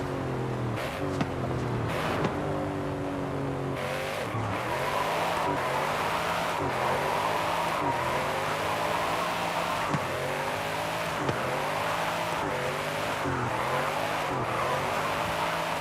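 A car in Forza Horizon 5, a Mustang with a six-speed manual and analog gauges, revs hard through repeated gear changes with rising and falling engine pitch, tires squealing steadily throughout, loud and continuous with no talking.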